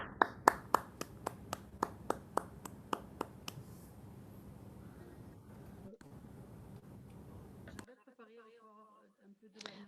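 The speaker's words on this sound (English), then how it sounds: "And now I invite you to all give a great applause to Fatou" An audience at an academic lecture gives a short round of slow, evenly spaced claps that thin out and fade after a few seconds. A quiet pause follows, then a voice begins speaking.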